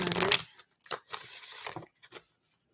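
An oracle card deck is shuffled up close, giving a series of short papery riffles and slaps in uneven bursts with brief silent gaps.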